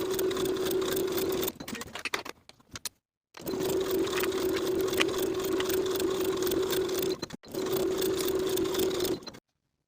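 A sewing machine stitches the shoulder and side seams of a cropped boxy top, running in long steady bursts with a steady hum, stopping briefly in between before starting again, close and clear.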